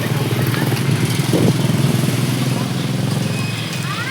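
Motorcycle engines at an evening market, a low rumbling putter running steadily nearby while people talk over it.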